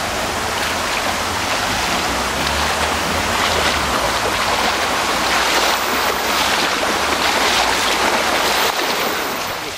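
Floodwater rushing in during a 2013 flood in Oberkotzau, a loud, unbroken roar of surging water close by, constant for about ten seconds with no voices.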